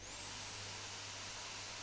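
A vacuum cleaner in the One Piece anime runs with a steady, loud whooshing roar and a high whine, continuous and close throughout the short moment, with no talk over it.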